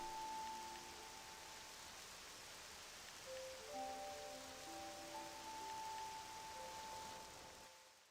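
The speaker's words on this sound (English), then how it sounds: "Rain." Steady rain falls over an empty ruined village with a windmill and stable in the video game Octopath Traveler II, a constant even hiss carrying throughout, with soft sustained music tones over it and no talking.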